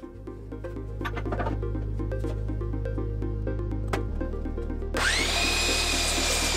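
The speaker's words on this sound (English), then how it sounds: "a smaller piece to run through the table saw to trim off" A table saw hums at steady speed, then rises in a loud, bright whine as its blade trims a wood piece for a keyboard wrist rest, close and continuous.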